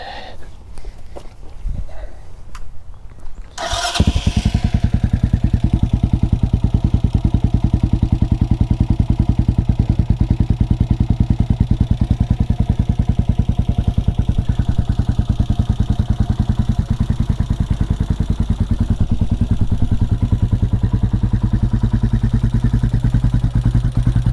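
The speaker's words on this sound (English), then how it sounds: "Look how sweet that exhaust is on this white bike." A CSC SG250 motorcycle with a MotoCult Stage 4 Plus performance kit fires up after a few seconds of handling noise and settles into a loud, steady throaty exhaust idle with a deep rumble, close to the microphone.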